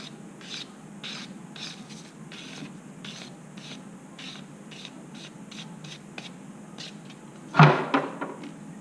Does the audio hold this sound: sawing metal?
yes